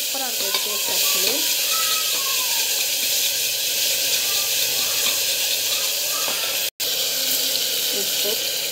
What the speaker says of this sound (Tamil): இது பார்த்திங்கன்னா நல்லா வந்து வதக்கிட்டுருக்கோம்